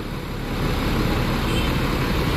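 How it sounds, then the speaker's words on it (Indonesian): A Kurnia bus departs with a steady, loud engine rumble that rises slightly and then holds amid road noise. "Ini bus Kurnia mau berangkat."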